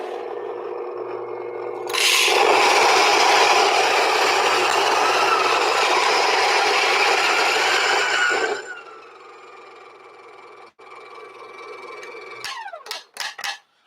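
An electric coffee grinder grinds beans for Turkish coffee, running as a loud steady whirring drone for about six seconds and then stopping. A few clicks and rattles follow.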